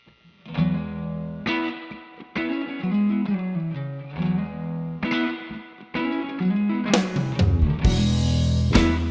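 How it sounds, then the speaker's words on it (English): An electric guitar plays chords and single notes through a Universal Audio Golden Reverberator pedal on its Spring 65 setting, modeled on Fender spring reverb units, with drenched, splashy spring reverb, loud and close, and a dense shimmering tail between strums. "it's one of the best Spring reverb sounds I've heard come out of a pedal"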